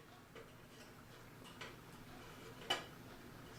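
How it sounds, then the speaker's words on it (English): An antique kitchen clock ticks faintly and unevenly, its out-of-beat ticks spaced irregularly over a soft room hiss. "it's ticking, but it's not straight."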